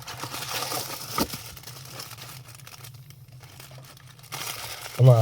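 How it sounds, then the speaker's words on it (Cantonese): Parchment paper wrapping around a large die-cast Tomica Nissan Skyline police toy car crinkles softly in bursts, a close, quiet rustling with a louder crackle at the end. "用牛油紙包住啦。"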